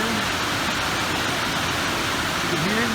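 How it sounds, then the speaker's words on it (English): Heavy rain pours down on a tin roof in central Louisiana, a dense, loud, steady hiss of drumming water. A voice speaks faintly beneath it. "We've got a pretty good downpour going on."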